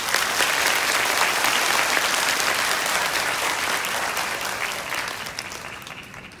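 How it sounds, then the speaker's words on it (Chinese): Sustained audience applause fills an indoor auditorium hall at a Taiwan Railway anniversary celebration, welcoming the transport minister; steady dense clapping that slowly fades toward the end, with no talk over it. "请各位热烈掌声欢迎部长。"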